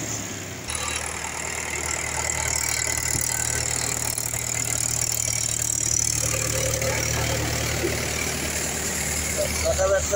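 A tractor pulling a rotavator puddles a flooded paddy field, its engine a steady, loud, close drone with some rattle running through the whole stretch, and a voice speaks over it.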